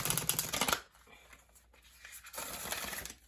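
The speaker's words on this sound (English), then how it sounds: "I just like to give them a little bit of a shuffle" Oracle cards are riffled and shuffled in two quick bursts of crisp, papery flutter separated by a quiet pause.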